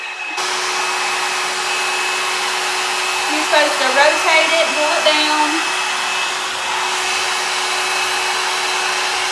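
A L'ange Le Volume hot air brush dryer on its high setting blows in a steady, loud whoosh throughout, with a person speaking briefly over the noise near the middle.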